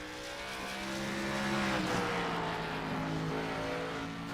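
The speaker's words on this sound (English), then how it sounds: "So first qual of the night is going to be Scott Meaden in the number 24 Chevrolet. His way off pit road and up towards the banking." The number 24 Chevrolet race car pulls off pit road at Bristol during qualifying, its engine a steady, rising drone with harmonic whine that swells and holds as it accelerates toward the banking, with no talking over it.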